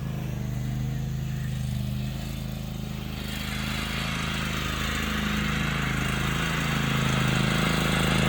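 John Deere lawnmower engine running steadily on a ranch, a close, continuous mid-pitched drone that grows slightly louder toward the end, with no talking.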